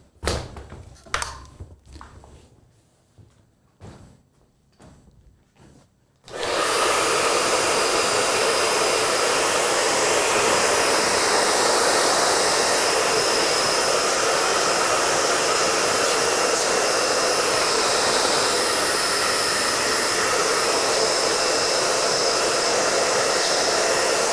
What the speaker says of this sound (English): I'm going to blow dry some of the loose hairs off of him real quick.